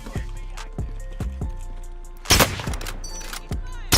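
Rapid gunfire in the shooter game Call of Duty Warzone Pacific, a string of sharp repeated shots with ringing tails and a heavier burst partway through, loud and close.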